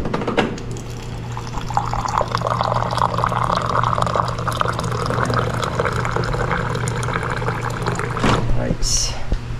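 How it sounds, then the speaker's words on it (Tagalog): Hot water pours steadily into a cup or pot in a home kitchen, a continuous near trickle under a woman's chatter, ending with a brief clink. "Kuha tayo ng mainit na tubig."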